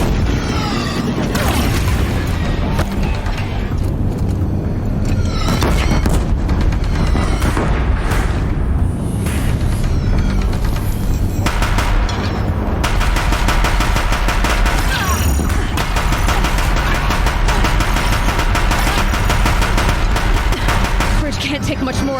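Deathbringer machines fire on a bridge in Horizon Zero Dawn, dense loud continuous gunfire with booming explosions and heavy impacts throughout, with occasional voices over the barrage.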